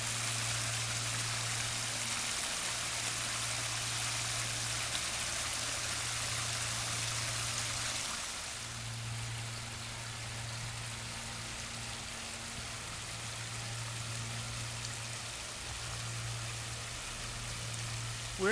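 Water from a pondless waterfall pours steadily over big chunky boulders and Pennsylvania wallstone in a backyard berm, a continuous rushing splash with a low hum running beneath it.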